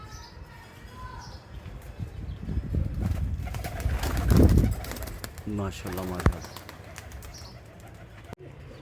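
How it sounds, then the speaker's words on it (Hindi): Pigeons coo and rustle inside a crowded pigeon loft in Dharampura, Lahore, soft repeated throaty coos and some wing movement close by, while someone talks over them. "माशाल्लाह कबूतर बहुत ज़्यादा है"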